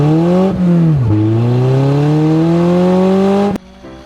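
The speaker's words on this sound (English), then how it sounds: "Yep, spinning the rear tire is still possible." A Polaris Slingshot spins its rear tire doing a donut, the engine screaming at high, steadily climbing revs with a couple of quick dips, loud and close, then cutting sharply to a low idle at the end.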